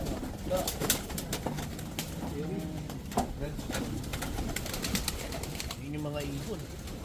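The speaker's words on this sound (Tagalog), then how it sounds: "Yun yung mga ibon." Pigeons coo in low, repeated throaty phrases against a busy background of other birds and faint voices.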